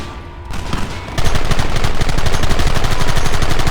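Rapid, loud gunfire erupts in a Red Dead Redemption shootout, a quieter rumble giving way to a sustained, dense rattle of overlapping shots that continues without pause.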